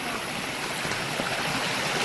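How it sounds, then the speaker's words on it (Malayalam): A small forest stream near a waterfall gives a steady, dense rush of flowing water, close and continuous with no pauses or voices. "വെള്ളം അവിടെ ഒഴുകുന്നുണ്ട് ചെറുതായിട്ട് അതിൻ്റെ സൗണ്ടാണ് നമ്മളിപ്പോൾ കേട്ടോണ്ടിരിക്കുന്നത്"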